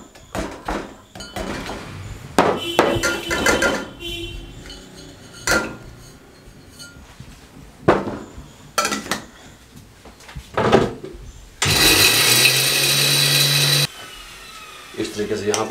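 Roasted besan laddu mixture being ground in a kitchen grinder: short bursts of whirring with clattering jar and lid knocks between them, then one longer, louder grinding run near the end, alongside a speaking voice.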